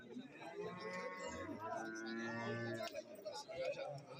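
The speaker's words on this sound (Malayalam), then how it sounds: "ചെറിയ പോത്തുകുട്ടികൾ എന്താ ഈ ഭാഗത്ത് നിൽപ്പുണ്ട്" Cattle and young buffalo calves lowing repeatedly at a livestock market, with long drawn-out moos over a busy background of other animals and murmuring voices.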